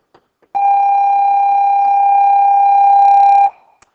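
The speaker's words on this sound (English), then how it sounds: "Excuse the bell there." A steady electronic school bell tone rings continuously for about three seconds, loud and unbroken, then cuts off, with no talking over it.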